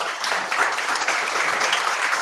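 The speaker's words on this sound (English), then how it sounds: "can we get a round of applause for Zooko?" Loud, dense audience applause for a speaker, a continuous roar of many hands clapping together with no talk over it.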